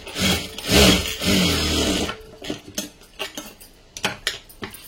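A sewing machine runs a seam through folded cloth in a burst of fast, steady stitching for about two seconds. Short, uneven clicks and handling noises follow, close and fairly quiet, with no voices.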